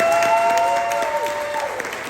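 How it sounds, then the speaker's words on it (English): Applause from the audience at a Black Fathers Rock Father of the Year celebration, loud and dense, a brief burst that stays steady, with a few voices mixed into the crowd noise. "let's give Ryan a big round of applause for 6 years"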